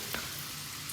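Garlic frying in fresh olive oil for a spaghetti and meatballs sauce, giving a steady, close hiss of bubbling fat with no voices.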